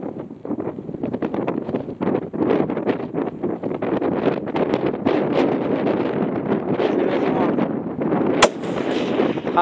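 A single sharp rifle shot at a buck during an outdoor hunt, sudden and loud against steady gusting wind noise and rustling, late in the clip.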